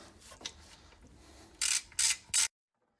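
Ratchet wrench tightening alternator bracket nuts on a Jeep Cherokee engine, three sharp loud bursts of rapid clicking near the end after quieter faint handling noises, then silence.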